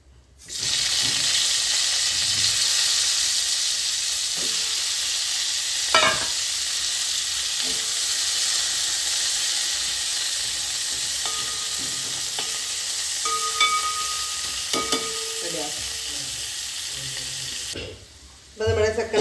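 Second batch of potato pieces frying in oil in a pan for a home-style chicken curry, a continuous bright sizzle close to the pan, with occasional scrapes and clinks of a utensil stirring.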